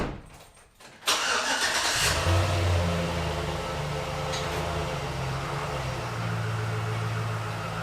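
Used Chevy truck engine cranks and catches after a short pause, then settles into a steady, close, moderately loud idle with a low rumble.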